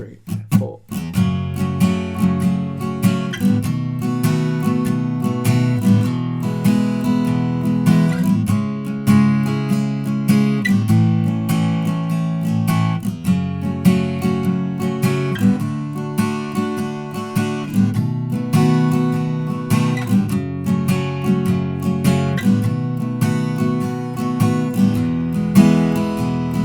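Strummed guitar plays the verse of a song at an easy lesson pace, a steady rhythmic run of bright chord strokes alone and close for nearly half a minute.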